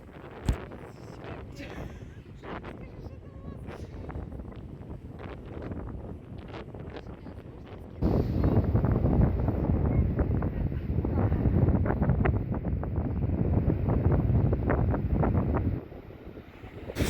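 Strong sea wind on the Odesa coast buffets the microphone in gusty rumbles, growing louder and harsher midway before easing slightly near the end.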